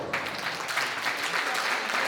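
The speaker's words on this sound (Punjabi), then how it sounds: "ਤੁਸੀਂ ਤਾਲੀਆਂ ਦੇ ਨਾਲ ਸਵਾਗਤ ਕਰੋ" Audience applause at a Punjabi welcome ceremony held at Punjab Bhawan, a steady wash of many hands clapping that holds for about two seconds at moderate volume, without talk.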